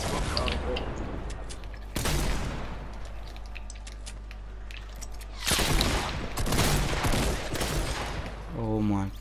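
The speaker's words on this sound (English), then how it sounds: "I sniped him, let's go!" Gunfire in the Fortnite battle royale video game, including a sniper rifle shot: loud sharp cracks and booms burst out in two heavy clusters, separated by a quieter stretch with rattling and mechanical clicks.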